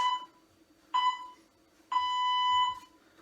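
Workout interval timer during a HIIT session, sounding three sharp electronic beeps at even spacing, the last held noticeably longer, clear and close with no talk.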